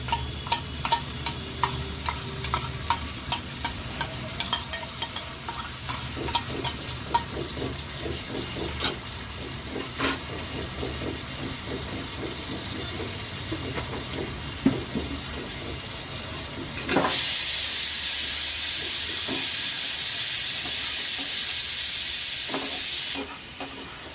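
Mutton being kosha stir-fried in its own released oil with a little sour yogurt, spatula scrapes and clinks over a steady sizzle that swells into a loud, continuous hiss near the end, close by and without speech.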